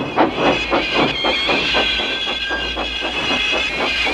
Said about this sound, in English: Thomas pushed and puffed and pushed as hard as ever he could.